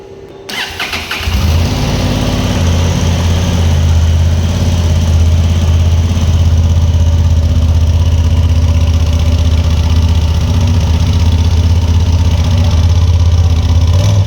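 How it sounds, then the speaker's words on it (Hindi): A Honda Transalp 750 motorcycle engine cranks and fires up, then settles into a loud, steady, deep rumbling idle that continues without a break. "इस बाइक का जो एग्जॉस्ट नोट है वो सुन लेते हैं"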